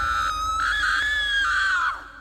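A woman's long, high, piercing scream, used as a horror-story sound effect, holds steady for nearly two seconds, then breaks off and fades, loud and alone with no talk.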